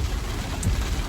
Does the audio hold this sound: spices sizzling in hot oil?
no